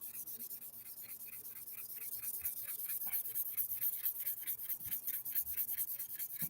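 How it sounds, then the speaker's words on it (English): Wet sandpaper rubbing back and forth over a plastic headlight lens during restoration, a steady rhythmic scrubbing of quick repeated strokes, close and fairly quiet, with no voices. "I've done a lot of sanding with the sandpaper"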